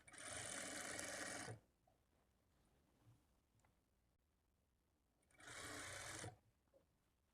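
A sewing machine stitches a princess cut blouse in two short bursts of rapid whirring, separated by a few seconds of near quiet, close and clear.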